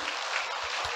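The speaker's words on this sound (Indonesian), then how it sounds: "Tepuk tanganlah," Audience members clap their hands together at a motivational talk about sincerity in trading, giving a brief, steady burst of crowd clapping with faint low thumps.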